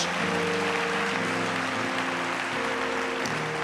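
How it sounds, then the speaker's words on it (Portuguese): A church congregation at a revival service claps for Jesus in a steady, dense wash of applause over sustained keyboard or organ music, continuous throughout. "Aplauda Jesus bem forte."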